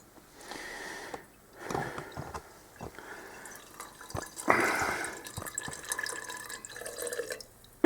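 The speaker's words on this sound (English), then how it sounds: "petrol comes running out" Petrol running from a carburettor float bowl on a ZZR600 motorcycle into a jam jar, heard as faint, irregular drips and trickles that swell into a brief louder pour midway, with no one talking.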